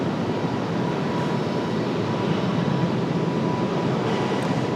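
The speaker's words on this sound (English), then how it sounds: "It's a Breeze Airways at A220 on the way out." A Breeze Airways Airbus A220 departs, its jet engines making a steady, broad roar that holds at constant loudness throughout, heard from outside with no voices.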